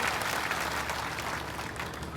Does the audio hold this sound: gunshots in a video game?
no